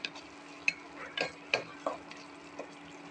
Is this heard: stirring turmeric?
yes